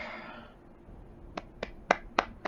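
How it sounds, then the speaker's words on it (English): Hand claps during a Crusader Kings II strategy game session, following a quiet stretch: five sharp, separate claps spaced roughly a quarter second apart, close and moderately loud, the later ones strongest. "I'm clapping my hands for him."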